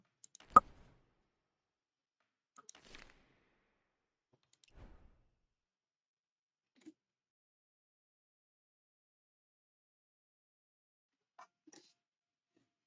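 Sparse, sharp clicks in an otherwise quiet room, a few isolated taps spread irregularly with long silent gaps, fairly faint and close.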